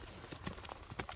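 Hooves clip-clop briefly at a Kyrgyz ulak horse sale, a few quick, moderately loud strikes near the microphone.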